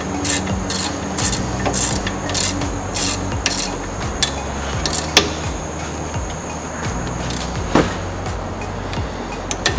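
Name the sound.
ratchet tightening brake bolts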